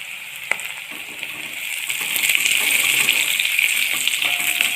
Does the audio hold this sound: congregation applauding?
no